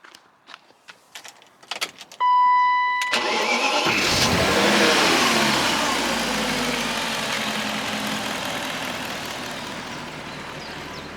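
A rare barn-find BMW V8 car engine cranks after a few clicks and jangles, catches and runs loud and steady close by, with a light, rough idle that slowly eases.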